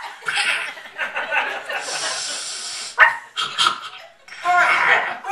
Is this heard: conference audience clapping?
no